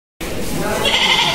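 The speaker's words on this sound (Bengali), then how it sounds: "সো এই দুইটা ছাগল আমাদের কেনা হয়েছে।" Goats bleat amid a busy Shahjahanpur livestock market, the calls rising over a dense crowd din with people talking throughout.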